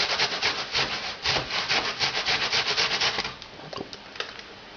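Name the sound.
grating onion on a grater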